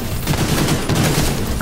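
Dense, continuous bursts of rapid gunfire and booming explosions in The Division 2 video game, with a synthetic game-like quality, loud and unbroken.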